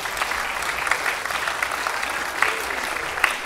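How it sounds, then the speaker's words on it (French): An audience at the Prix Chronos 2024 ceremony breaks into sustained applause, a dense steady patter of many hands clapping at once. "Vous pouvez vous applaudir."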